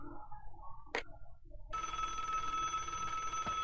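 Telephone ringing in the Broken Sword: Shadow of the Templars point-and-click game, a steady, loud electronic ring starting partway through and continuing alone after a short tap.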